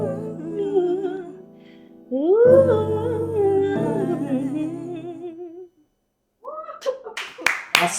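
A melodic vocal performance rings out and then stops, and after a short silence a few sharp, scattered hand claps follow near the end.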